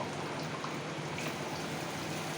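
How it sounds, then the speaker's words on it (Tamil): Kitchen tap left running as a child rinses a spoon, a steady close hiss of flowing water that stays even and unbroken throughout, with no voices over it. "அந்த ஒரு ஸ்பூன் மட்டும் வாஷ் பண்ணிட்டு வாங்க வாங்க"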